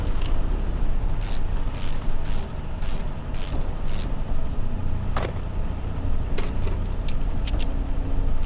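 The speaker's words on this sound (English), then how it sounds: "click on the vehicle to order your soldier to repair it" A soldier repairs a vehicle in the WWII strategy game Call to Arms: Gates of Hell Ostfront. Rapid, close ratcheting wrench clicks come in a string of short bursts, followed by scattered metallic clanks and ticks over a low mechanical rumble.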